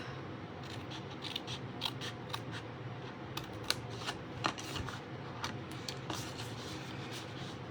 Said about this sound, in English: we're gonna miter the edge and cut that off.